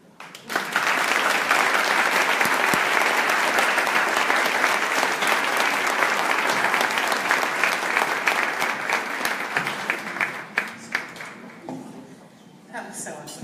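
Audience applause after a talk, a sustained wash of clapping that starts abruptly, holds strong for about ten seconds, then thins and tapers off, with faint voices near the end.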